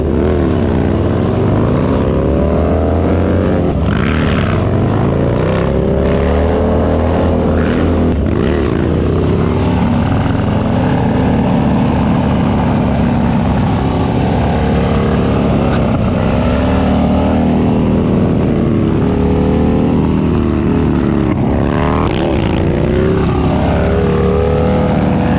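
A motorcycle engine roars continuously on a road during a licence test ride, loud and close with wind rush and shifting pitch as the rider leans and accelerates.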